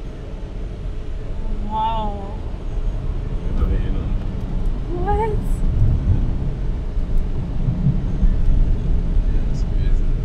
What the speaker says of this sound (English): All you hear is the wind.